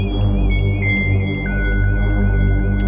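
A UDO Super Gemini synthesizer holds a dense, loud, steady drone with fuzzy noise modulation brought in by key pressure, plus a thin wavering high tone above a throbbing low hum, with no talking.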